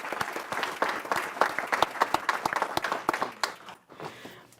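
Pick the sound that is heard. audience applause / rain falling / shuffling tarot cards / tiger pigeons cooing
audience applause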